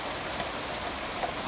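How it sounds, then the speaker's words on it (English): Heavy rain falls steadily on a pasture, a dense, even hiss with faint scattered drop patter throughout, close and loud with no pauses. "the rain's coming down heavy now"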